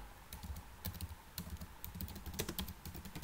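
Keystrokes on a computer keyboard while C code is typed, a steady run of quick, close clicks with occasional louder taps, no voices.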